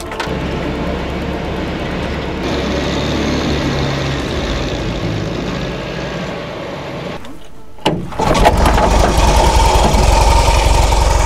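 A Wehrmacht Kübelwagen Typ 82 fitted to run on railway track idles with a steady, loud engine drone, then near the end the engine note jumps louder and rougher as it revs up to move off.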